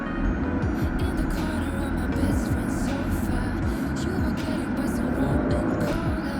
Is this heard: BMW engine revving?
yes